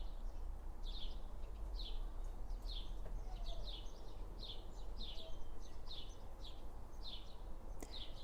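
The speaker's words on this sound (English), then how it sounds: "to sit outside, to listen to the birds." Faint birdsong outdoors, a bird repeating short chirping phrases at a steady pace over a low background hum.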